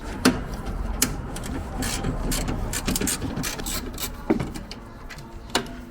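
Bolts being loosened on a Honda CR-V starter, with a ratcheting wrench clicking in short bursts, metallic clanks and knocks, and steady mechanical rattling, close by.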